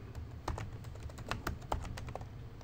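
Typing on a computer keyboard, quiet and close: a quick irregular run of light clicking keystrokes, alone with no voices.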